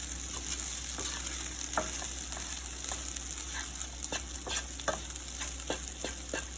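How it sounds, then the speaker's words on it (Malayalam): Sabudana (sago pearls) stirred in a frying pan makes a steady, close sizzle, with scattered sharp scrapes and taps from the spoon against the pan throughout. No one speaks. "ഇത് ഇങ്ങനെ നന്നായിട്ട് ഇളക്കി കൊടുക്കണം."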